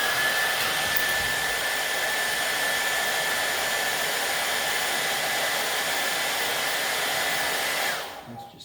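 A heat gun blows steadily on the glue of a Steinway piano hammer shaft during restoration, a loud continuous airy roar that holds for about eight seconds, then cuts off abruptly.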